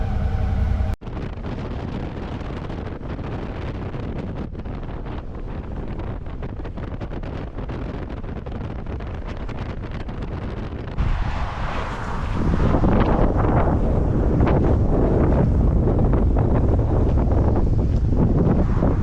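Steady, heavy wind buffeting a microphone while riding a motorcycle, broadband roar throughout that grows louder and rougher in the second half, with no talking.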